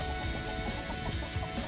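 Chickens, including young chicks and larger hens, cluck in soft, close, scattered bursts over a steady outdoor background noise.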